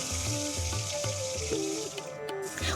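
Pointed gourd frying with salt in hot mustard oil in a kadai produces a continuous close sizzle, with melodic background music over it.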